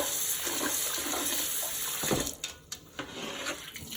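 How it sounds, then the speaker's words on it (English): Cold running tap water pours steadily into a bowl, with rice grains swished and rattled about in it, ending in a few splashy sloshes. "now I'm going to wash the rice with cold water"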